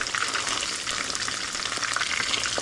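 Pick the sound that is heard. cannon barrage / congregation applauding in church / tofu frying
tofu frying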